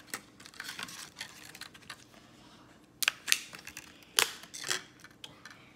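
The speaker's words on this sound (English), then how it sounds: "We take out this micro SD card." A micro SD card is pulled from the slot of a Raspberry Pi 3 board, giving faint plastic clicks and small scrapes, with a few sharper ticks near the end and no talking.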